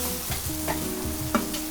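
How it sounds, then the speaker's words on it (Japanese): Ingredients for a meat sauce, with onions being softened, are stirred in a pan over a lowered flame on a strong commercial burner. A continuous soft sizzle runs under repeated scraping strokes of the utensil along the pan bottom. "鍋底をねかき混ぜながら素材をかき混ぜながら炒めていきます"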